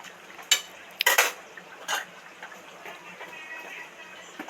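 A lid goes onto a cooking pot of shukto, a Bengali vegetable dish, in a home kitchen: a few sharp metallic clinks and clatters close by, then quiet faint rattling.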